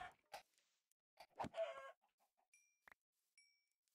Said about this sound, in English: Chickens, come here.